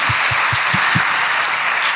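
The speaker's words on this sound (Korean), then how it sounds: "박수를 안 칠 수가 없지 않아요?" A church congregation applauds at a Sunday invitation service, filling the space with dense, continuous clapping, and a few louder, thumping claps stand out near the front.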